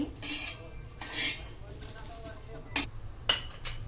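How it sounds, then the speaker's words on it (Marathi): Fried onion is scooped out of a pan for a spicy soybean curry, giving a few scraping and clinking utensil sounds, with broad metal scrapes around the start and end and sharp clinks near the close. "मी काय करते हा कांदा काढून घेते"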